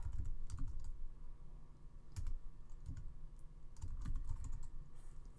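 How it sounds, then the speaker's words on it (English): Steady keyboard typing on a computer keyboard, with clusters of close, crisp key taps and occasional heavier keystrokes over several seconds, no voices. "I tab all the way over and I start typing"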